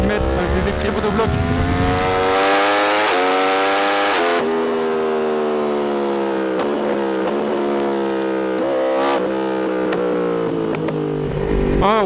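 Engine of a 2024 Yamaha R1 sport motorcycle held on slight throttle, a loud steady harmonic drone with rising and falling pitch and a few sharp pops and crackles breaking through, close and continuous for the whole stretch.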